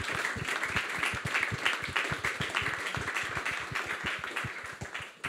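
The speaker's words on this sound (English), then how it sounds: "Just a round of applause for those guys as well." A small audience at a BMW UK motorsport team launch for the 125i M Sport touring car claps steadily, individual claps distinct and close, moderate in volume and continuous throughout.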